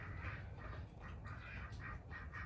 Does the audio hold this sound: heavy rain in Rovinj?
no